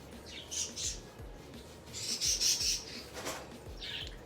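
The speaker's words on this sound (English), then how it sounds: "These birds are crazy" Birds chirp and squawk in excited bursts, some shrill calls clustered together amid steady background noise, moderately close, with no talking.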